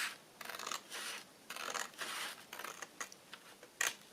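Card is cut along a marked line on a craft booklet flap in a run of short, quiet rasping cuts with brief pauses between them, close by and with no talking.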